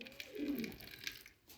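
Pigeons in a loft give a soft, low cooing call near the start, then fainter fluttering and shuffling sounds, all quiet and close.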